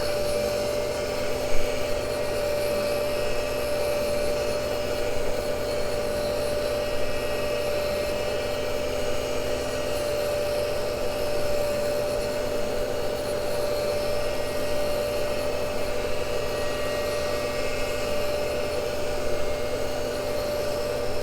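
A Cincinnati tool and cutter grinder sparks out a Morse taper, its steady motor whine and wheel hiss holding constant with a strong tonal hum throughout, no talk.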